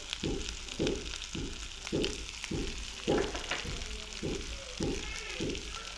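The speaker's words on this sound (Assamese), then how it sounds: "মছলাখিনি ভাজি থাকিব" A spice mix with salt fries in a pan for a kawai (climbing perch) fish curry with mustard, a soft sizzle under a regular rhythm of scraping stir strokes about twice a second, with no talk.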